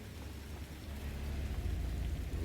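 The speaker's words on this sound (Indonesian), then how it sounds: "Hujan ya." Steady rain falls in the London streets of the video game Watch Dogs Legion, a dense wash of patter that swells slightly louder toward the end, with no talk over it.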